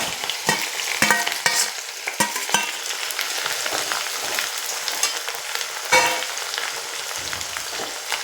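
Chopped green chillies and kanthari chillies frying and being stirred in a pan for a white lime pickle, with steady sizzling and scattered sharp clatters of a spoon against the pan.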